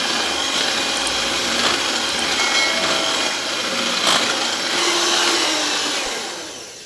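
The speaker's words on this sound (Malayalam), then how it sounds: "ഇനി കൊക്കോ പൗഡർ കുറേശ്ശെയായിട്ട് അതും ഇട്ടിട്ട് ബീറ്റ് ചെയ്തെടുക്കുക" Whipping cream with cocoa powder being beaten, likely by an electric hand mixer, a steady close whirring motor drone that runs continuously with slight shifts in pitch and no talking.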